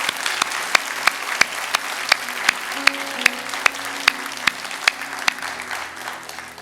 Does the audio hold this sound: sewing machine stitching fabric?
no